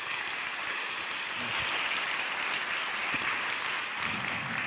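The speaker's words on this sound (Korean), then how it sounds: "우리 나오실 때 큰 환영과 사랑의 박수로 환영하도록 하겠습니다" A church congregation gives sustained, even applause to welcome a pastor to the pulpit, heard as a dense wash of clapping from many hands that holds steady throughout.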